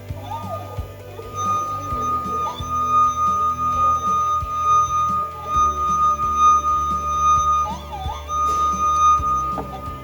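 A sustained, pure singing tone from a wet finger circling a glass rim, holding steady over a busy background of music and noise.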